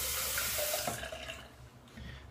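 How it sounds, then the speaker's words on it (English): Water runs from a bathroom tap to wet a face after shaving, a close, steady rush that splashes briefly before it eases off, with no talk. "wet my face real quick"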